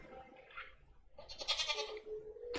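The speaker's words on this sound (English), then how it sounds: "That's my goat. So this is a goat." A goat in the farming video game Stardew Valley gives a couple of short, quiet bleats, heard alone with no talk.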